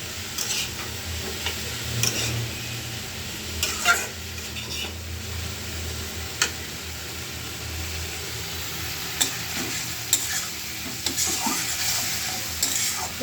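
Spices fry and are stirred in a pan: a continuous soft sizzle broken by sharp scraping and clinking strokes of a spoon against the metal, with no one speaking.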